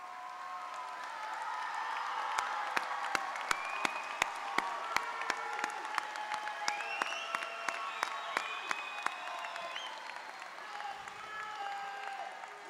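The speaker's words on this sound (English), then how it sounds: "Will you all please rise and receive our applause?" Audience applause at a business school graduation ceremony for honors graduates, a steady, dense wash of clapping with scattered louder claps, lasting throughout at a fairly constant level.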